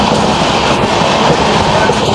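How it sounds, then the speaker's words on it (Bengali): The Tamralipta Express on the Howrah to Digha line at a station, a loud, close, continuous rumble and clatter of the rolling train with no voices. "তো চলো উঠে পড়া যাক ট্রেনে।"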